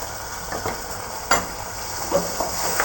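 Chopped onions fry in oil with cumin and mustard seeds as tomatoes go in for a cluster bean curry, a steady sizzle broken by a few soft scrapes and stirs of the spoon.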